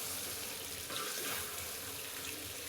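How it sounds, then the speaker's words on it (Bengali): Water pours into a pot of sautéed goat meat, giving a steady rushing splash with a faint sizzle underneath, close and fairly quiet. "চলুন মাংসটা এভাবে কষিয়ে নেওয়ার পর আর কি জলটা দিয়ে দেব।"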